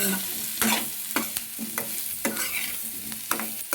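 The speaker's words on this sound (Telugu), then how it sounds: "నూనె పట్టేటట్టు బాగా కలబెడతా" Boiled cassava pieces tossed in hot oil with salt and curry leaves, a spoon scraping and stirring in sharp repeated strokes over a steady frying sizzle, close up with no voices.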